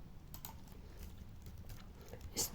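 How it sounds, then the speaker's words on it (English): Quiet computer keyboard typing, a few soft scattered key clicks close to the microphone over a low background hum, with no talking. "so I will type here"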